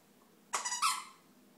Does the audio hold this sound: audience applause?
no